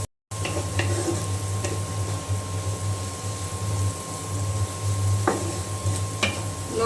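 Noodles with a packet of noodle spice mix stirred in a hot pan alongside chicken, a steady sizzle with scattered scrapes and clinks of the utensil against the pan, close and continuous throughout.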